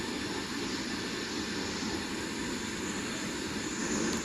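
A Lufthansa A319 airliner descends in the Aerofly flight simulator, giving a steady, broadband engine and airflow roar at an even level with no talk.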